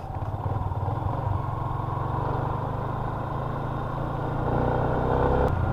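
Motorcycle engines rumble steadily nearby as a group of bikers rides past, a continuous loud low drone that swells slightly toward the end.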